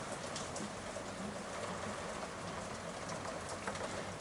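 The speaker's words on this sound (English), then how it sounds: "you can hear the rain hammering it down here still" Heavy rain hammers down steadily on a surface in a workshop, a dense, continuous hiss with scattered drop impacts, unbroken throughout and without talk.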